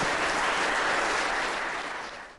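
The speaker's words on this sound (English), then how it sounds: "A round of applause for them." Steady applause from an award show audience, loud and continuous, fading slightly toward the end.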